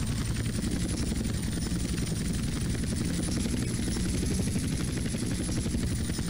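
Helicopter in GTA San Andreas setting down to land, its steady rotor thump and engine whine loud and continuous throughout, with no talk.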